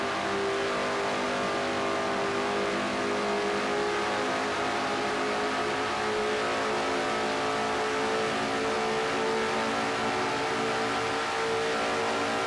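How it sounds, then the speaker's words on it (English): A stock car engine roars at sustained high revs in a racing video game at the Brickyard, a loud, continuous droning whine with layered engine tones that holds steady throughout. "Now Jessica Shelton's view as they come off turn number 3, riding with the number 94 McDonald's Ford"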